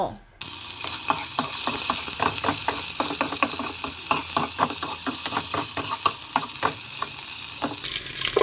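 Steady, loud sizzling of chicken fat frying in hot oil, with a dense crackle throughout and no talking.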